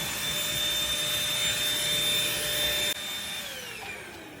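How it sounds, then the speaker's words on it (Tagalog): A vacuum cleaner runs loudly and steadily with a high whine, then its pitch drops as the motor slows or shifts partway through, close by with no talking. "vacuum."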